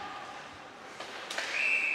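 Referee's whistle at a women's ice hockey league game, Whitley Bay versus Swindon Topcats, a sustained shrill tone arriving near the end over faint arena noise.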